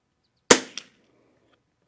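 A CZ455 .22 rifle with a Lothar Walther barrel and Christensen Arms Ranger 22 stock fires ELEY Match ammunition: one sharp, dry crack followed by a short echo, and a faint click near the end.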